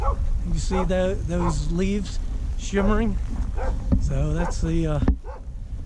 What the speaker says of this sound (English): you can hear a dog barking in the background